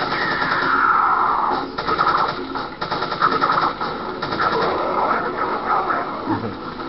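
Repeated gunshots crack out in Resident Evil 4, a series of sharp reports spread across several seconds over game noise, with voices talking in the background.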